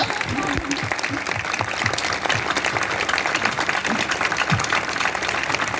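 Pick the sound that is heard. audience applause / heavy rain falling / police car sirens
audience applause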